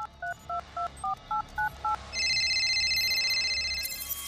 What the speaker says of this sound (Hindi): डाउनलोड होने के बाद हमने फिर से उसी नंबर पर फोन किया।